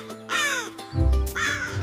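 A crow caws loudly and close, with three harsh calls in quick succession over a low hum.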